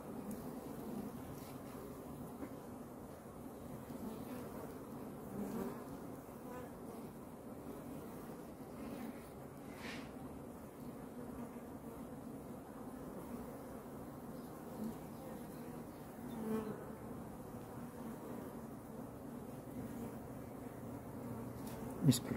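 Honeybees hum around an opened top-bar hive on a calm May day by a reservoir, a soft, steady buzzing drone with individual bees passing close now and then, fairly faint and without talk.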